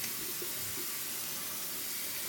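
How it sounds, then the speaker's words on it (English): A steady rush of water running during a warm and cold rinse over a freshly shaved head, a continuous even hiss throughout, close and fairly soft, with no speech. "I do a warm rinse, and I do a cold rinse."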